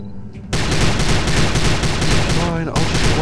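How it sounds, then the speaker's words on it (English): Gunfire in the video game Prey: a sudden, loud, continuous stream of rapid shots that starts abruptly and barely pauses, close and dense throughout, with no talk. "Fine, I'll just waste my bullets on this guy, shall I?"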